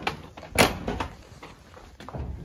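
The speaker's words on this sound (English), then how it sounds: "let me shut this door" A farm door is pulled shut at night: one solid clunk stands out among several softer bumps and rattles, close to the microphone, with no voices.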